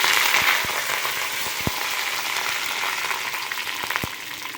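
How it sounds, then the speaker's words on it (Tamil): Mustard seeds, curry leaves and three dried red chillies fry in hot oil as tempering for a white pumpkin sambar, giving a loud, steady hiss with scattered sharp pops and crackles from the seeds. "கடுகு கொஞ்சம் பொரியட்டும்."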